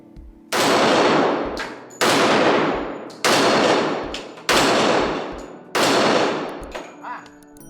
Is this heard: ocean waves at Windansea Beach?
no